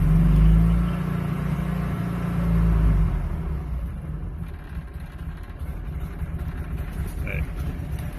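A Honda 600 sedan's small engine running nearby, a low rumbling idle that swells briefly then settles, with someone talking over it.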